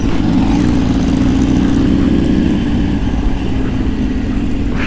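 Steady, loud engine drone with a low rumbling hum throughout, from a motorcycle running close by on a morning ride.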